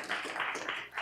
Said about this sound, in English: I'd like us to give him a warm applause for all that he's done.